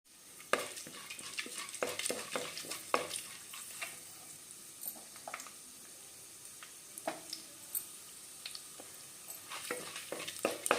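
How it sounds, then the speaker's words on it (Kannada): Chana dal, urad dal, cumin and mustard seeds spluttering in hot oil in a heated pan, rapid irregular crackles and pops over a soft sizzle, with occasional utensil clinks and no talking. "ಪಾತ್ರೆ ಕಾದಿತ್ತಲ್ಲ ಬೇಗ ಆಯಲ್ ಆಗ್ತಿದ್ದಂಗೆ ಸಿಡಿತಾ ಇದೆ ನೋಡಿ"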